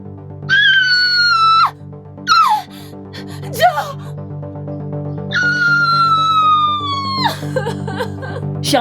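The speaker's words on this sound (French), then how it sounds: "J'ai entendu quelqu'un crier." Someone screams in loud, high, wavering cries: a long shriek, a short one, a quick yelp, then another long drawn-out scream, close and alone.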